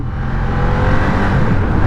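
A Ducati Diavel Dark Edition motorcycle engine runs loud and close, holding a steady throaty rumble throughout with slight swells in revs and no pauses.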